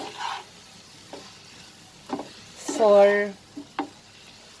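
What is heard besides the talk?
broccoli masala sautéing in a pan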